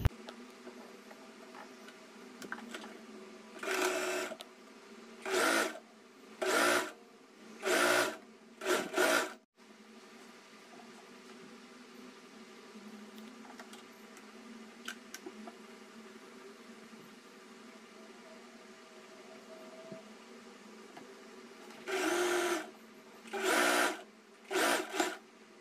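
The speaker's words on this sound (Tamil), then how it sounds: "இந்த மாதிரி மடித்து அடியில் வந்து ஸ்டிச் பண்ண போகிறேன்" Bursts of a sewing machine stitching folded blouse puff sleeve pieces, several short runs of rapid needle rattle in close succession early on, then a long lull before three more runs near the end, no talk.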